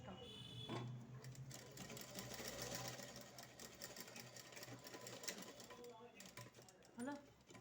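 Sewing machine stitching fabric for a raincoat pant, a steady close mechanical whirring hum throughout, with someone speaking over it.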